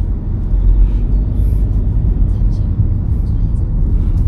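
Car driving off from a stop on a driving-test road course, a steady low engine rumble and road noise heard from inside the cabin, close and constant with no clear rise.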